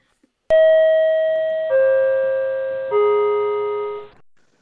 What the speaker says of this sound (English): Subway chimes, go.